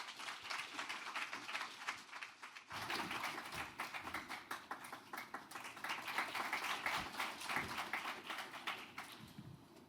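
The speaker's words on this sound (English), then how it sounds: "Please welcome with a warm applause." Audience applause welcoming Dr. Hani Kim to the stage at a foundation forum side event, a steady, fairly faint patter of many hands clapping without pause, no talk over it.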